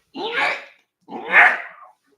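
A sick dog makes two close, loud retching or heaving noises, each lasting about half a second, separated by a short pause.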